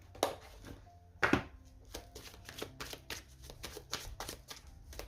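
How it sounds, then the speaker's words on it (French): Lenormand oracle cards shuffled by hand, close up, giving a run of crisp riffling and flicking bursts with a couple of sharper slaps near the start. No one speaks. "je prépare mon deuxième Lenormand pour recouvrir et on y va"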